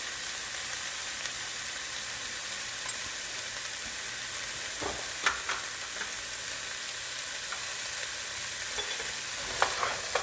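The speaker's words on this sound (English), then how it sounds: "I'm gonna give that one more stir" A spoon stirs homemade vegetable soup in a pot on the stove, with a steady soft sizzling hiss and a few faint scrapes and clinks standing out over the continuous cooking noise.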